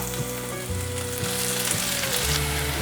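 Soy crumbs and minced ginger stir-fry in sesame oil with a continuous bright sizzle, close and steady, with spatula scrapes and stirring bumps breaking through the crackle.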